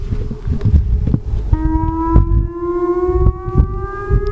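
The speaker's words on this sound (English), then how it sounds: "I think they're doing a test on the emergency loud voice system." Civil defense siren on an emergency warning system test, its long rising wail sounding over outdoor background noise with scattered knocks, steady and fairly loud.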